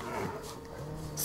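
Dogs in the video game Gladius, a short burst of yipping and whimpering barks set against a steady hum of in-game background noise.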